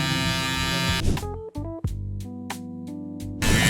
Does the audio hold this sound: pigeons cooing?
no